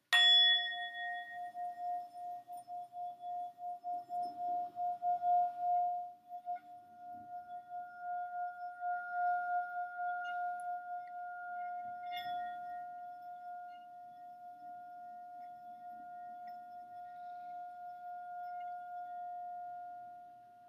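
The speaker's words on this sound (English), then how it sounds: "So relaxing into your breath again and tuning into the sound of the bell." A glitter singing bowl rings out with a struck onset, then settles into a long, steady sustained tone that slowly fades over about twenty seconds, heard alone without talk.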